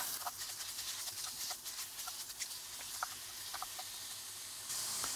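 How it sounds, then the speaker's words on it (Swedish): Minced meat sauce sizzling in oil in a pot for a one-pot lasagne, a soft continuous hiss dotted with small crackling pops, quiet and close with no talking. "I med lite mer olja så att det inte bränns fast."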